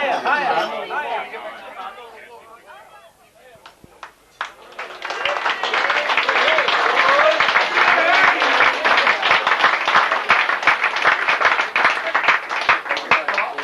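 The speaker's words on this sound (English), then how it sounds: "I hope the applause is as rapturous at the end as at the beginning" Loud, dense audience applause builds after a few seconds of chatter and then continues steadily and close for the rest of the time, with voices murmuring underneath.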